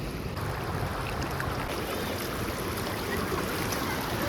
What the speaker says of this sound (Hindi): हमें मिला एक ये प्यारा सा नदी